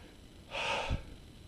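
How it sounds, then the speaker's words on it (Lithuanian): One deep, close breath drawn in and released by someone speaking at around 2–3 km altitude in the mountains, quiet and alone, ending in a soft snort-like exhale. "kvėpuoju labai giliai kalbėdamas."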